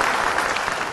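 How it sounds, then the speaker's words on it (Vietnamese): A studio audience on a Vietnamese in-laws game show breaks into a brief, steady burst of loud, dense clapping. "một tràng vỗ tay cho ba nhà trai ạ"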